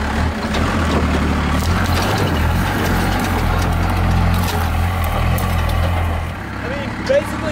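A 1993 Dodge Ram W350 four-wheel-drive truck with a 5.9 12-valve diesel engine idles with a steady low rumble close by, while a person talks over it.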